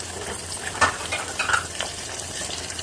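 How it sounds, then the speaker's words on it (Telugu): Mustard seeds, cumin and crushed garlic frying in hot oil, a dense close sizzle with faint crackles and a couple of light metallic clinks from a utensil. "ఇవి దోరగా వేగేటప్పుడు, చిట్పట్లాడేటప్పుడు వెల్లుల్లి అయితే వేసుకుందాం."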